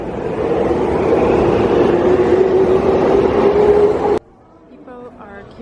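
Tokyo subway train rumbling steadily through a station with a rising tonal whine, then cutting off abruptly into quieter platform ambience with faint voices.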